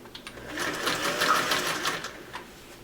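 A sewing machine stitches a flat-felled inseam on cargo trouser legs, running steadily at close range for nearly three seconds with a dense, continuous mechanical whir and rapid needle rhythm, no talk.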